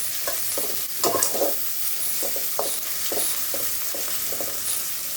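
Green chilies and fried rice being stirred in a pan, with a steady soft sizzle beneath repeated scraping strokes of a utensil, a few louder scrapes near the start, no talking.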